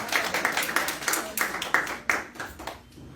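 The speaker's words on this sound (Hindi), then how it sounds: "ਜ਼ੋरदार तालियां।" A church congregation gives rhythmic, fairly close clapping, a steady run of hand claps fading toward the end, with a little voice underneath.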